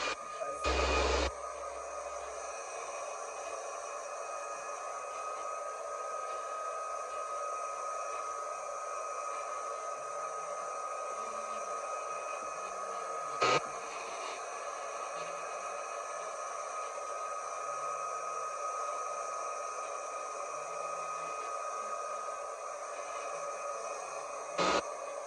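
A hair dryer blows steadily to dry wig glue during a wig installation, a constant whirring hum with a couple of brief clicks and a quiet voice murmuring underneath.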